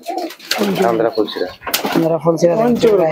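Pigeons coo repeatedly at close range in a loft holding a large flock of around 150 to 200 birds, with soft rhythmic warbling calls overlapping and a brief clatter midway.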